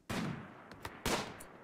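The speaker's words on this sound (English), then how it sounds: "Oh, did someone just return fire?" Gunfire in the colony game RimWorld, as raiders return fire: three or four sharp shots in quick, uneven succession, the first and last loudest, each trailing a short noisy tail.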